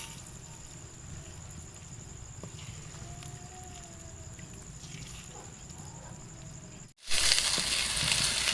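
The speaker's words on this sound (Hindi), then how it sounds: "अंडे हम इसी ऑयल के अंदर फ्राई कर लेते हैं।" Eggs frying in hot cooking oil in a kadai give a steady, close sizzle and patter throughout, jumping abruptly louder and brighter near the end as more spitting crackle takes over.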